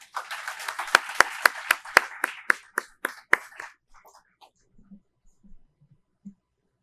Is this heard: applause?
yes